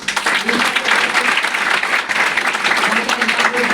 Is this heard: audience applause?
yes